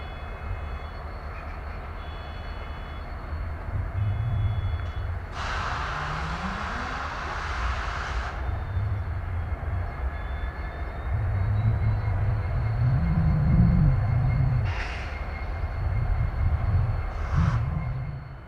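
A pair of Canadian National EMD SD70M-2 diesel locomotives: one rumbles at a steady low idle while the other starts up, with bursts of hissing air and a rising engine drone at close range, no voices.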